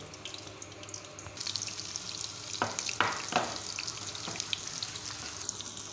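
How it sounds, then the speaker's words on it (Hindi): Chicken koftas fry in a pan with a steady background sizzle, broken by a few sharp spattering bursts and light clatter near the middle, heard up close without any speech. "ये तो हमने कोफ्ते तैयार कर लिए हैं, अब इनको हम कर लेंगे फ्राई"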